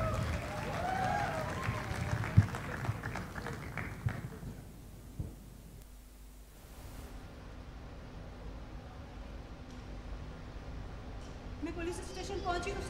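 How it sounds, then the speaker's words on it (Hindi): An audience in a theater hall claps to welcome a stage performer; the scattered applause fades after a few seconds, leaving a quiet room with a low hum, and a little clapping returns near the end. "भरपूर तालियों में इस्तकबाल कीजिए"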